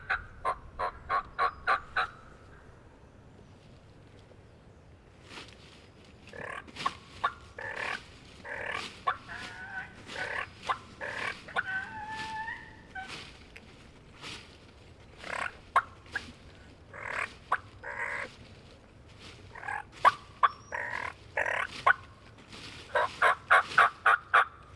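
Wild turkeys gobble repeatedly in rapid, rattling bursts, some close and some farther off, with quieter gaps between calls, on opening day of turkey season in Alabama.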